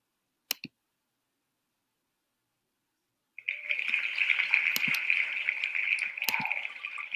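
A spinning wheel in a shuffle-and-spin game gives a rapid, steady run of close clicking for several seconds, preceded by a couple of brief taps and a short silence.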